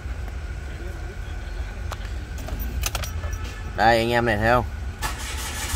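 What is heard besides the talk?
Mitsubishi Attrage 2018 car engine starting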